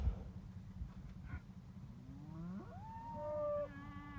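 Braford heifers and calves, gentle crossbred cattle with Angus, Brahman and Hereford blood, give a long rising moo that swells and holds near the end, with faint farmyard background before it and no talking.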